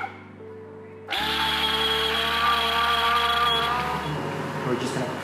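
A hand blender submerged in ice cream base starts with a sudden onset and runs as a loud, steady whir for about four seconds, then winds down.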